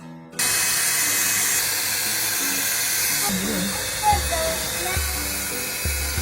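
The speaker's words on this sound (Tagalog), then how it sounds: "Pagtingin ko nga dito sa likod ay napakadaming alikabok kaya naisipan ko siyang i-vacuum para hindi na kumalat." A cordless vacuum cleaner starts abruptly and runs with a steady loud whine and hiss, sucking up heavy dust from behind a wall mirror, with a pitch drop partway through and a few knocks and clunks.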